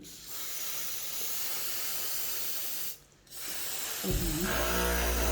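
Power 5 multipurpose spray hissing steadily onto a door hinge for about three seconds, a brief pause, then spraying resumes before a louder low-pitched knock near the end.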